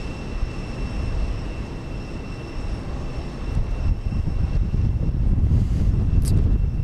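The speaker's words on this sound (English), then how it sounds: "Not our finest parallel takeoff there." Airliners taking off in parallel at Houston Intercontinental Airport: a broad, distant jet roar that slowly swells and grows louder, with some wind buffeting the microphone.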